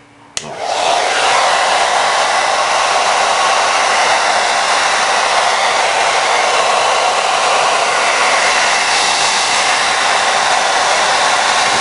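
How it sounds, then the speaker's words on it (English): A hair dryer blasting on its hot setting, a steady loud whoosh that starts abruptly and runs continuously without pause. "And then hit it with the dryer as fast as you can."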